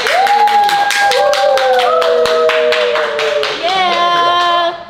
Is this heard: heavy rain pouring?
no